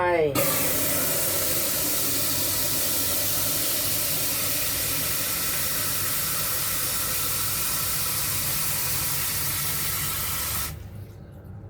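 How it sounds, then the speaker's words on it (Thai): Water pours steadily into a pot while spiced santol is being prepared, a loud continuous hissing rush that runs for about ten seconds before cutting off abruptly. "ก่อนอื่นแล้วก็จะใส่น้ำลงไป"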